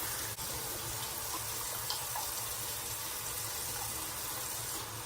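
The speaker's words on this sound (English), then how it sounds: "I'm just wetting a towel with hot water" Hot water runs steadily from a bathroom tap onto a towel, a constant close hiss of flowing water with no talking.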